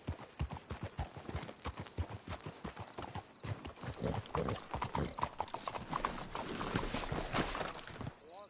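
Horse hooves clop in Red Dead Redemption 2, a quick steady beat of close hoofbeats that grows denser and louder, with faint tack and gear rattling underneath.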